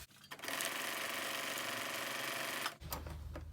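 A sewing machine stitching fabric scraps onto adding machine tape runs in one close, steady burst of rapid mechanical chatter for about two seconds, then stops with a low hum.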